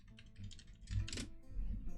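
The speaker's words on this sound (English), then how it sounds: "Typing female foot reference into Google." Typing on a computer keyboard, a quick patter of soft clicking keystrokes heard close but faint, with a muffled bump partway through.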